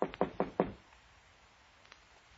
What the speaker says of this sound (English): so I knocked on the door